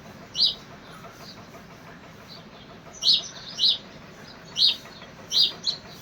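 Bright, sharp bird chirps at about 6 a.m. ring out in short bursts, one early and then a cluster of five, over a quiet, steady background hush.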